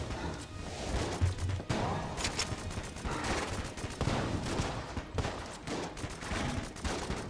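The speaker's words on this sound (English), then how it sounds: "Strafe gun doesn't do a ton of damage to the dragon, does it?" Strafe gun firing in the video game Enter the Gungeon, a dense barrage of rapid gunshots and impacts layered with game effects, loud and continuous throughout.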